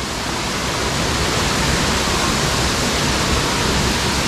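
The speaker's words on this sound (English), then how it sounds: "It looks like there's actually three waterfalls." Waterfall at a Cateel, Davao beach spot, a steady loud roar of falling water that fills the whole clip without a break, with no voices.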